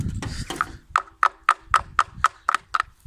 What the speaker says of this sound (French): Qu'on y va gentiment avec un petit marteau et ça vient tout seul.